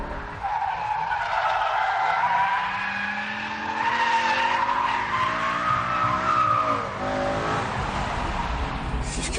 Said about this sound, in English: Now lift up the throttle as we dive into the corner.